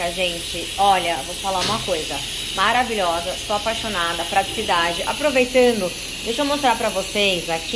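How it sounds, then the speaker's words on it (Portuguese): An electric pressure cooker hisses with a steady high steam jet while chicken cooks, continuous and fairly loud, running beneath someone talking throughout. "Esse barulho que vocês estão escutando é da panela de pressão."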